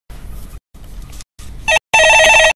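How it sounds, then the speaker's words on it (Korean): An old-style telephone rings in a studio, first muffled low buzzing bursts and then two bright, loud electronic ring bursts, each about half a second long with short gaps between them. "예, 전화 받아보겠습니다."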